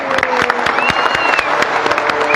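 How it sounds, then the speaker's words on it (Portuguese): A parish congregation at a Mass for Saints Peter and Paul gives a dense round of clapping, loud and close, with murmuring voices and a sustained tone running underneath. "Vamos dar uma salva de palmas pra Lívia."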